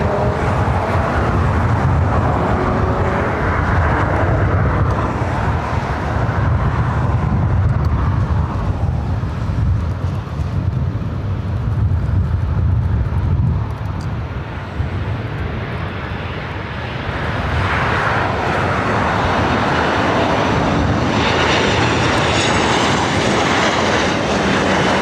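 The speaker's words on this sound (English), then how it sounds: "up next, WestJet Flight 1430 coming in from Edmonton, Canada, 737-800" A WestJet Boeing 737-800 landing at LAX: a steady, loud roar of jet engines that holds for the whole stretch, dips briefly midway, then swells again, with no voices.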